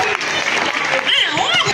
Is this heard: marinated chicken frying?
no